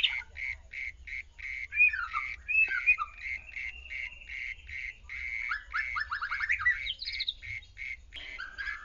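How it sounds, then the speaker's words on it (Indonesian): Bahorok white-rumped shama (murai batu) in breeding condition sings: a rapid run of repeated sharp chirps mixed with varied rising and falling whistled phrases, fairly close and steady throughout, with no talking. "saya pancing dengan suara burung murai"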